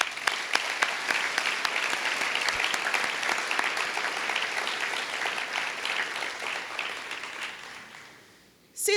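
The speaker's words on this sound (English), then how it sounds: "Let's give him a round of applause." A crowd applauds steadily for several seconds with dense clapping that gradually fades, then a voice begins at the end, at a high school ribbon-cutting ceremony.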